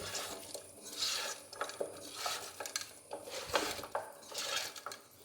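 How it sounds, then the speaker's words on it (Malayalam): A spoon scrapes and clinks against a pot as ration rice for a potato mandi is stirred, in quiet, irregular strokes repeated several times. "നല്ലോണം കൊഴിച്ച് കൊടുക്കാം"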